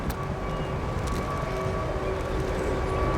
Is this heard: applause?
no